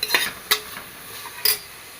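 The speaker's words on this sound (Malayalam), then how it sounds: "ഇതൊന്ന് നന്നായിട്ടൊന്ന് ഇളക്കി കൊടുക്കണം അങ്ങനെ ഒരുപാട് ഇതാവുമൊന്നും വേണ്ട കേട്ടോ ഒരു വിധം മതിയാവും ഒന്ന് ചൂടായാൽ മതി" Food being stirred and heated in a pan while making a stew: three short, close scraping and clattering bursts, spaced irregularly over a quiet background hiss, with no voices.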